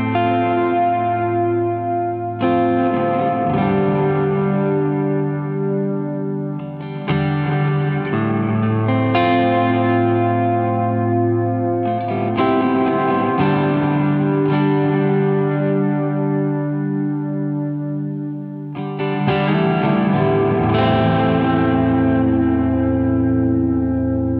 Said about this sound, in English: we've got the pre-delay, the reverb, and the resonance within that virtual reverb chamber to help keep everything sustained a while